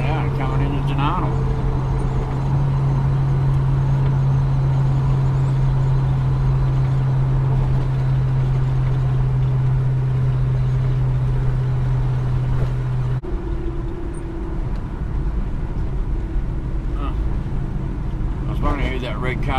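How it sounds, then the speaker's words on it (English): A red Commodore closes in quickly from behind on a country road. Its engine and tyres make a steady, building road roar, heard from inside a moving vehicle with talking over it. "Car coming up behind me pretty quick was."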